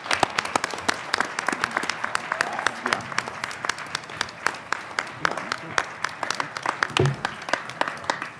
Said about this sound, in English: Please come on up so you can get a round of applause.